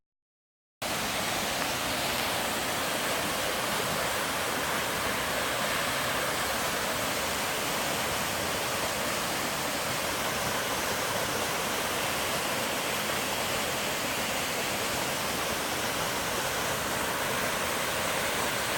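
A strong waterfall on the La Cloche Silhouette trail in Killarney Provincial Park, rushing as a loud, steady, unbroken roar of water that runs unchanged throughout, with no voices.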